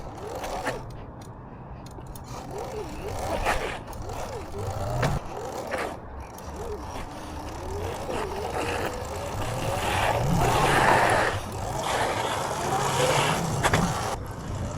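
A motorcycle engine is eased up through the throttle slowly for a wheelie, its drone rising and falling in long smooth swells over wind rush, fairly loud and continuous.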